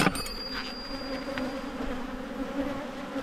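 Honey bees swarm around an opened top bar hive, making a steady, dense buzz close by with no pauses.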